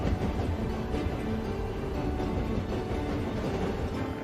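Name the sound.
train arriving at station in Tiny Rails video game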